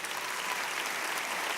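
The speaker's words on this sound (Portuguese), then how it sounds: "Gente, dá um aplauso aqui para o Wagner," A church congregation claps for a man being honored during a service, a short burst of dense, continuous applause from many hands with no talking over it.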